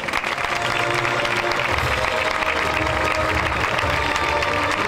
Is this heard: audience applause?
yes